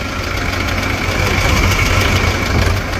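A tractor engine idles steadily up close, a low continuous rumble with a rattling, knocking quality and no voices.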